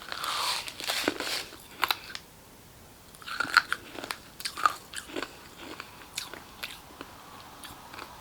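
Sour snack candies being bitten and chewed close up, with crunchy bites and wet chewing sounds in irregular bursts over several seconds, no talking.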